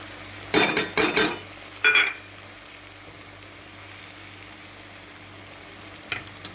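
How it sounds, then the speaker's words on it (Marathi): Tomato puree hitting hot oil for a Rajasthani garlic and red chili chutney, a burst of loud close sizzling and spatter in several quick surges, then a faint simmering hiss with two brief scrapes near the end. "आता मग आता आपण ही टमाट्याची गिरवी टाकून घेऊया."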